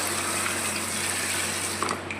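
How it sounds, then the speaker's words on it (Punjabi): Cold water is poured into a homemade room-cooling setup, a steady close rushing trickle that continues evenly, with a constant low hum underneath and a small clunk near the end. "ਆਪਾਂ ਹੁਣ ਇਹਦੇ ਵਿੱਚ ਠੰਡਾ ਪਾਣੀ ਐਡ ਕਰ ਦਿੰਦੇ"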